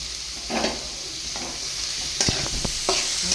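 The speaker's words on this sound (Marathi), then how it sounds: "चांगला फ्राय करून घ्यायचा आहे कांदा आणि नंतर जास्त तेल टाकायचं. लाल होईपर्यंत भाजायचं आहे." Onion frying in oil in a pan, a steady close sizzle with a few short stirring scrapes and clacks toward the end; no talking.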